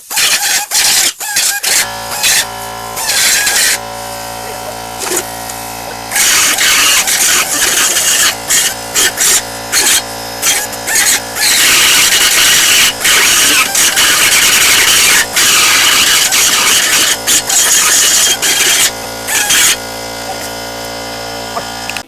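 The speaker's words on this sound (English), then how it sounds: "let's deburr that while I'm doing it" A power tool deburrs a metal running board bracket in loud, intermittent bursts of high-pitched grinding and whirring separated by short pauses.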